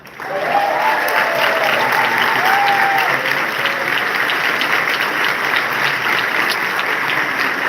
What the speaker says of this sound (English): I know you may all get tired of clapping